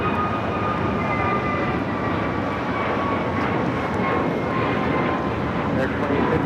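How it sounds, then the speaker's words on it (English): Jet roar from an American Airlines Airbus A321neo taking off at LAX, a loud steady broadband rumble with a faint whine over it, lasting throughout with no break. "This is American Airlines 2850 taking off to Philadelphia on the A321neo."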